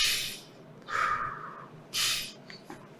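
A person imitates a crying child's breathing as an anxiety technique, with two sharp, quick inhales followed by one longer exhale, close and clear with no talking.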